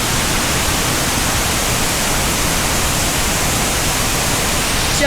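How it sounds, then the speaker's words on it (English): The Great Falls of Tinker's Creek at Viaduct Park pours as a loud, steady broadband roar, continuous and unbroken throughout, heard close with no talking over it. "There you go, the Great Falls of Tinker's Creek."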